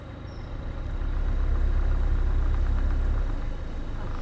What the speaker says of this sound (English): The boat's acting really weird and making a lot of noise.